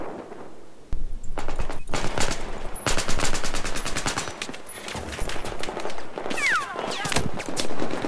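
Rapid bursts of RPK-12 light machine gun fire in the shooter game Battlefield 4, sustained loud automatic volleys with short pauses, mixed with other battlefield gunfire.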